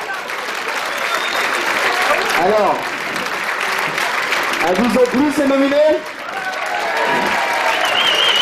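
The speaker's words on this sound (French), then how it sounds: "On peut les applaudir bien fort." Sustained applause from a cabaret audience fills the room, with a voice speaking French over the clapping partway through.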